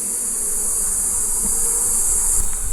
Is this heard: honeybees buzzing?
yes